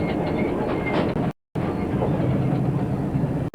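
An XPLORER passenger train runs along a winding, poorly maintained track, giving a steady, loud rumble of wheels and carriage noise with a brief dropout partway through.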